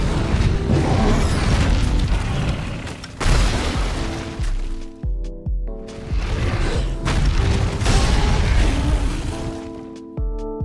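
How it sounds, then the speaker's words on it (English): Ruiner Nergigante's spike explosion in the Monster Hunter video game: two heavy booming blasts in a row, each a loud crackling burst that rumbles and decays before cutting off, with no one talking. "He has two variations of this move, and these both end with a spike explosion."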